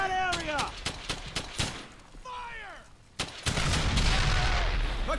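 Squad gunfire in Brothers in Arms: Hell's Highway, a rapid string of sharp shots with ricochet whines, a short lull, then a heavy sustained barrage, with voices shouting underneath.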